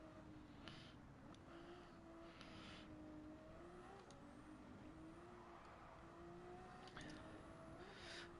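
Racing engine of a Subaru in the Gran Turismo 7 racing game, a steady low drone that rises and falls in pitch as the car accelerates and shifts, heard continuously and fairly quietly.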